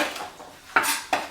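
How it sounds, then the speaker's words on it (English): Chopped onions, garlic and ginger are tipped into a pan for a rogan josh, making two brief clattering scrapes of utensil on metal, close and clear. "Then I put the onions, the garlic and the ginger"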